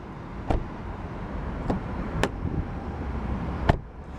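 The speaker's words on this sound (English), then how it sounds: "you can definitely hear how much softer the thunk is when you close the door." A 2015 Hyundai Sonata Limited door shuts several times, each a soft, muffled thunk rather than a tinny clunk, heard against steady outdoor background noise.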